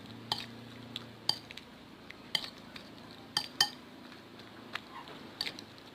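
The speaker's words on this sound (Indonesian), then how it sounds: "lalu diaduk seperti ini" Egg and eggplant omelette batter mixed with seasoned flour is stirred in a bowl, giving a string of sharp utensil clinks and taps at irregular intervals over a low steady hum.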